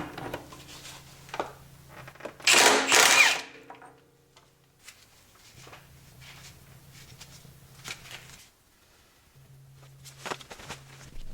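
Hand tools work the swingarm nut on a Ducati 1198S sport bike: a sharp, loud burst of metallic effort, then scattered quieter clicks and rattles close by, with no speech.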